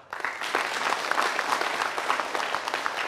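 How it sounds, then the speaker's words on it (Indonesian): Studio audience applause for Budi Cilok on an Indonesian televised legal talk show, a dense steady wash of many hands clapping close and loud, sustained throughout without speech. "saya minta aplaus dulu untuk"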